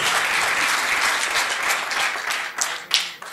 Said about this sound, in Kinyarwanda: Amashyi menshi cyane kuri Fari Merci